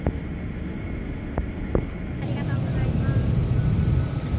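A small propeller-driven passenger aircraft flying toward Yakushima, Japan, heard from inside the cabin as a steady loud low engine drone with broadband rushing noise throughout, rising slightly in intensity midway.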